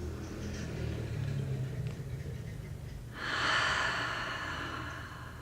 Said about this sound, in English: Maybe this time you exhale through your mouth.